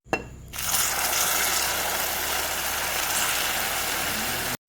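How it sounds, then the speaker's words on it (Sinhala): After a brief thump, water pours steadily into a pan of melting sugar for toffee, a continuous rushing hiss held for about four seconds before stopping abruptly. "දැන් වතුර ටිකක් දා ගන්න ඕනේ"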